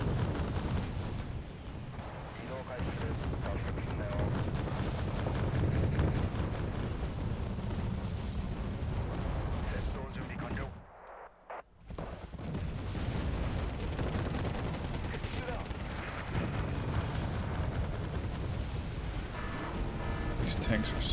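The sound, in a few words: tanks firing in Wargame Red Dragon video game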